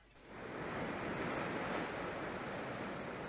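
A steady rushing water sound, like surf or a torrent, swells in after a brief quiet start and holds loud and even, representing the water element in the game Dark Fall.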